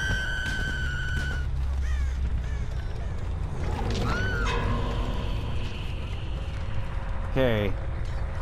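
Crows caw repeatedly in the horror video game Dead by Daylight, sharp calls scattered over a busy game soundscape with other effects and a voice talking throughout.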